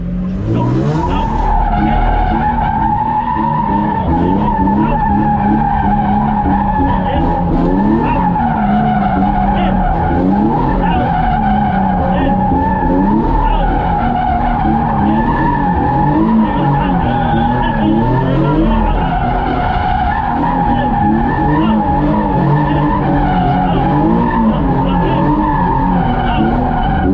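A car drifts with its tires skidding and squealing in one long, loud, unbroken screech that rises and falls as the car slides through a turn, with engine roar underneath.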